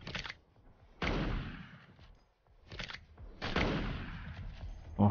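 Sniper rifle shots ring out in the LifeAfter mobile game, with about four sharp, loud reports, each trailing into a long echoing decay, spaced unevenly.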